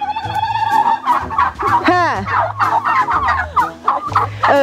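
Turkeys gobble loudly and close by in a rural yard in Shamakhi, giving repeated rattling gobbles and warbling calls, with a brief spoken word in between.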